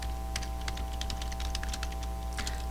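Steady typing on a computer keyboard during app setup work: a run of light, quick key clicks at close range over a constant low hum, with no voices.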